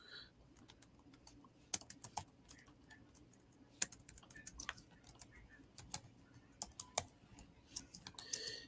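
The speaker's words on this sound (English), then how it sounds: "I will actually type that out for you" Rapid, irregular keystrokes clatter on a computer keyboard at close range, with bursts of sharper clicks breaking through a low background hum, and no voice heard.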